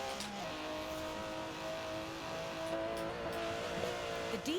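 An Aston Martin DB11 engine in a racing video game hums and revs up steadily, its tone rising and falling slightly, with no talking.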